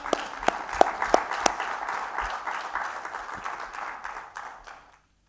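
A church congregation claps in applause for single mothers raising their children alone, a dense burst of many hands with a few sharp, louder claps early on, steady and near before fading out after about five seconds.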